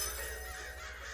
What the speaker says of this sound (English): I think you were attacked by birds.